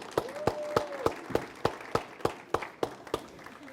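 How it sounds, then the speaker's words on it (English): A small group of people claps for volunteers in a sparse, evenly spaced rhythm of sharp, distinct claps, close and clear, with a brief tone running under the first second. "can we give them a nice big round of applause?"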